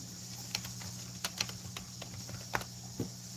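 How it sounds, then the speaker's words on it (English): Sparse keystrokes on a computer keyboard, a handful of quiet clicks scattered irregularly over a low steady hum, no talking. "I'll type it"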